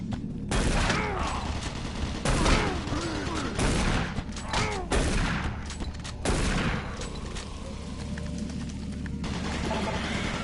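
Automated turret guns fire in the video game Doom 3, with loud rapid bursts of gunfire and heavy impacts repeating over several seconds, mixed with game mechanical noise and a synthetic warning voice.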